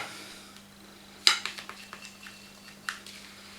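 A silicone spatula scrapes chocolate and walnut cake batter from a bowl, giving soft scrapes and light clinks and knocks. The sharpest knock comes after a quiet start, and the sounds are quiet and close, with no talking.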